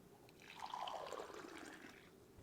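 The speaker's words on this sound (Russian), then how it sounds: "Я наливаю чай в чашку." Hot green tea pours into a cup with a soft, close trickle that swells briefly and fades over a couple of seconds.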